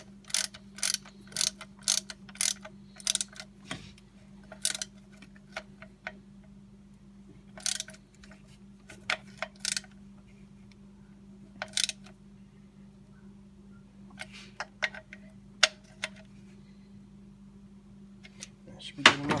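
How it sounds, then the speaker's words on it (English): A ratchet tightens thermostat housing bolts on a 2013 Dodge Durango 3.6 V6, in bursts of quick close clicking separated by pauses, over a steady low hum. "Get this on there and then I'll torque it to spec."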